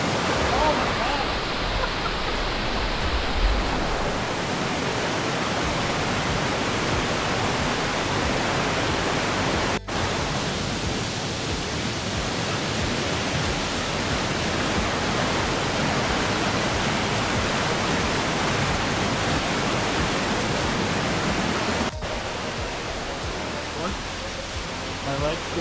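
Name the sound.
water flowing underneath a bridge during pouring rain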